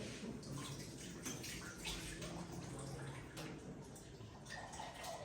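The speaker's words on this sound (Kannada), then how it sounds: "ಹಾಗೆ ಈಗ ನೀರು ಹಾಕ್ಕೊಳ್ತೀನಿ" Water is poured into a cooking pot holding cut hog plums with salt and jaggery, a faint, steady splashing and gurgling stream that runs for several seconds without pause.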